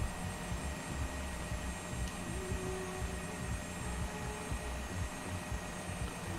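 Cabri helicopter engine in Microsoft Flight Simulator, a steady droning hum with a rapid low rotor throb underneath, constant and moderately loud, with no speech.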